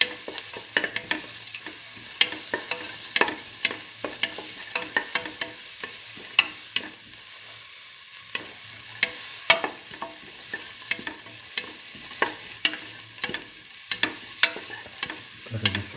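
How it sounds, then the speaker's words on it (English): Onions sautéing in a pan with fennel seeds and salt, a continuous close sizzle broken by frequent quick taps and scrapes of a stirring spoon, briefly quieter midway. "Keep on sauteing."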